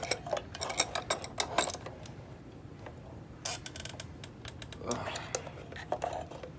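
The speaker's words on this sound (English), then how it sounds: "This wrench thing's getting stuck." Wrench turning on the belt shaft of a Sanitaire SC899 upright vacuum, giving quick clicking ratchet-like metal clatters in bursts, close and fairly quiet, with a voice speaking between them.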